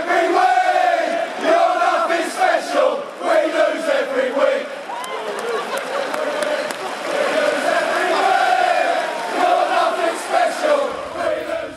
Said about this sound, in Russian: Что и подчеркнули в своей кричалке болельщики Nottingham Forest.